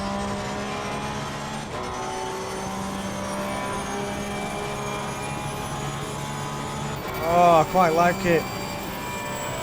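A Porsche GT3 race car engine at Monza in Assetto Corsa Competizione drones steadily with a high whine, then shifts through a quick burst of gear changes near the end, under a man's brief speech.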